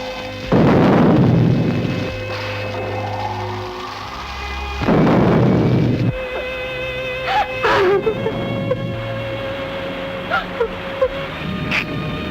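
Deep rumbling booms of thunder roll in twice, each lasting over a second, then fade into a quieter background with scattered faint sounds.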